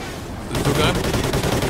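Rapid gunfire bursts in the Call of Duty Ghosts video game, dense and loud, with automatic fire crackling continuously after a sudden start.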